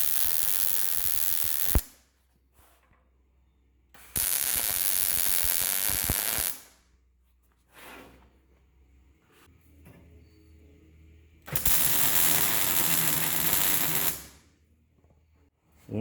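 MIG tack welds fixing nuts onto a steel skid plate for a diesel Jeep front bumper, three separate bursts of close, harsh crackling buzz, each lasting a couple of seconds, separated by quiet gaps.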